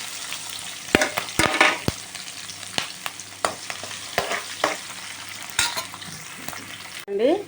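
Onions and green chillies frying in hot oil with tempering seeds, a close sizzle punctuated by frequent sharp clicks and scrapes of a ladle stirring in the pan, with no talk.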